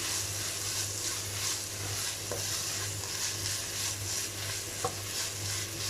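Lasagna filling with chopped green chillies sizzles in a pan while being stirred, a steady close frying hiss with occasional soft scrapes of the spoon.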